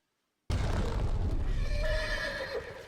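A horse, the eight-legged steed Sleipnir from the Thor film, gives a loud whinny over the thud of hooves; after half a second of silence, a dense, near clatter starts and runs steadily to the end.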